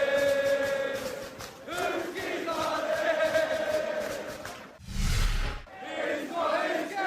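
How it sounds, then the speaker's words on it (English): Sports fans in a large crowd cheer and chant together in sustained, tonal voices, then break into a sudden loud roar before the chanting resumes. "cheering when the guy got his keys that they had been recovered"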